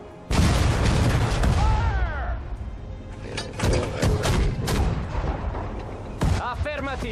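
Mortar rounds fired at a tank in Sudden Strike 4, a dense barrage of booming impacts and blasts running the whole time, with a voice speaking over the din.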